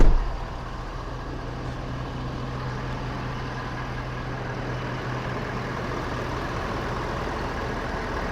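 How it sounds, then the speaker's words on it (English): A steady, low diesel idle from a 2023 Ford Super Duty 6.7L Power Stroke H.O. pickup truck rumbles continuously with an even drone and no revving, close by and fairly quiet throughout. "Let's go ahead and fire this truck up"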